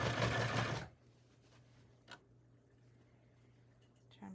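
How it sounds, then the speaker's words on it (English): Sewing machine stitching a shirt in the round, a loud rapid mechanical whir for under a second before it stops, leaving a low hum and a faint click. "Sewing in the round, or at least I think that's what it's called."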